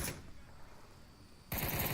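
Gunfire in the VR shooter game Onward during a competitive championship match, heard as a faint rattle that turns into a louder burst of rapid shots near the end.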